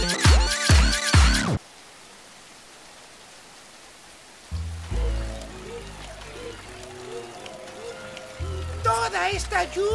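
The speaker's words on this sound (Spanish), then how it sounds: "¡Lluvia!" Rain falls steadily in a cartoon Noah's Ark episode, a soft even wash of noise between bursts of music at the start and end, with voices heard over parts of it.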